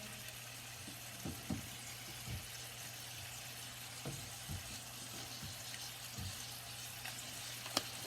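Pork chops seasoned with Lawry's fry in a pan, giving a continuous sizzle under a low hum, with scattered soft pops and clicks throughout.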